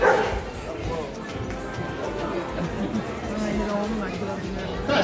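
Sheepdog Albert barks and yips at a flock of sheep outdoors, with repeated barks under steady background noise and voices talking.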